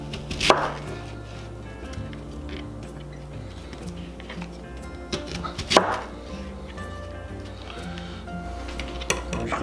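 Knife chopping a chuck roast into quarters on a cutting board: two or three heavy, distinct thuds spaced several seconds apart over steady background music.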